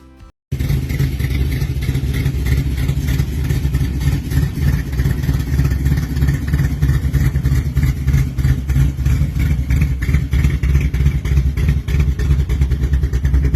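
After a short quiet start, a pro street car engine kicks in, loud and close, with a rough, choppy lope that pulses evenly and swells with occasional revs throughout, with no voices.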